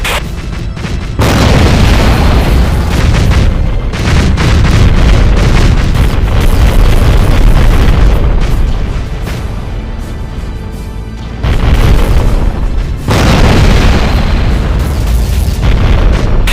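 In the underwater combat game AquaNox, destroyed targets go up in loud, deep, rumbling explosions that roll on almost without a break, with heavy booms swelling and fading.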